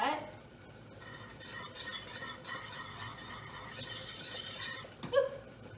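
A whisk stirs hot homemade strawberry pie filling in a pot, giving a soft continuous scraping swirl with faint splattering, then a sharp clink of metal near the end.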